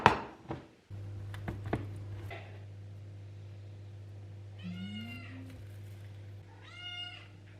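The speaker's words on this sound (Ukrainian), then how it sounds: "Кіт просто божеволіє на фоні." A cat meows a few times in the background over a steady low hum, with some knocking and clattering sounds early on.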